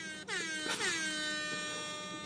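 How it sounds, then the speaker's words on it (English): A single long air horn blast, loud and sustained, sliding briefly in pitch before holding a bright, brassy tone, with nothing else over it. "Wait, did you not have an air horn prepared?"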